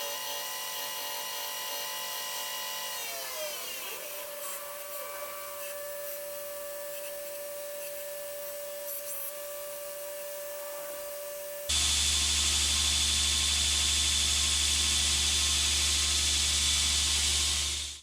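A grinder shapes a Damascus steel puukko knife blade, first a whining motor that drops in pitch, then a loud, steady, harsh grinding roar that carries on alone to the end.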